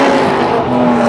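Race cars on a circuit at a motorsport invitational event, a loud, close engine drone with a steady pitch, brief and continuous.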